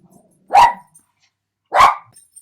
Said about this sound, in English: You might have heard a dog bark then.